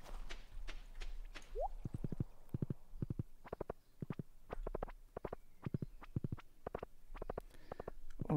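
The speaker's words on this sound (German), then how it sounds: "Und dankenswerterweise ist mein Pferd ja da." Horse hooves in the farming game Stardew Valley, rapid evenly spaced clip-clop beats in quick groups, close and clear against a faint low background, with no talk.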